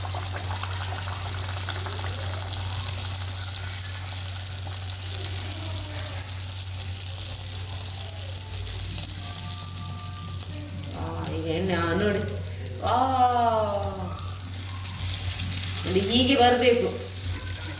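Hot oil sizzles softly as Mangalore buns fry, a steady faint crackle in the background, with brief pouring and clinking sounds near the end.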